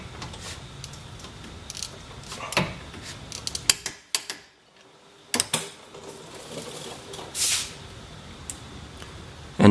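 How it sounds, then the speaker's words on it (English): An 18mm bracket mounting bolt is torqued to 85 foot-pounds on a Dodge Challenger during a Baer brake upgrade, heard as scattered close ratcheting clicks and metallic ticks in bursts with short pauses and no talking. "torque the 18mm bracket mounting bolts to 85 foot-pounds"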